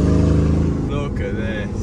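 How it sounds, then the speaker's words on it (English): A V8 engine drives a winding mountain road ahead on Europe's most dangerous road, its deep throbbing rumble loud and close, with a voice talking over it partway through. "Just hear Chris's V8."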